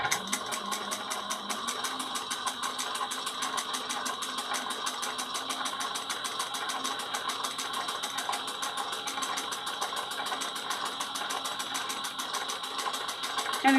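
A sewing machine runs steadily, stitching a two-tone strap 1/8 inch from the edge, with a fast even needle rhythm that stays close and constant throughout, with no talking.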